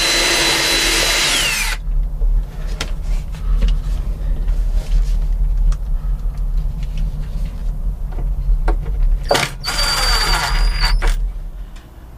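A power drill drives set screws into an electrical box on a boat, with a loud whining burst at the start and another near the end, a low rumble in between.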